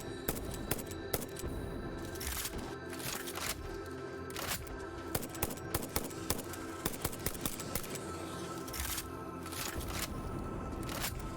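Gunfire in the video game Satisfactory comes as rapid, fairly quiet bursts of shots and clicks that repeat irregularly for about eleven seconds.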